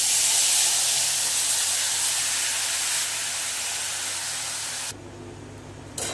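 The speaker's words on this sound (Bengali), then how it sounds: "এইবারে কড়াইতে আমি দিয়ে দেব রসুন বাটা, লঙ্কা বাটা আর হলুদ আর নুন" Garlic paste, chilli paste, turmeric and salt fry in hot oil in a wok for a small-fish dish, giving a loud, steady sizzling hiss that cuts off abruptly near the end.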